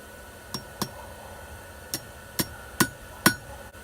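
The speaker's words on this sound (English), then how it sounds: "take it to the horn of the anvil and open it up some more" Metal rings out as a hook is hammered on the horn of an anvil, with six sharp, close strikes spaced irregularly over a few seconds. The blows grow louder toward the end and each one rings briefly.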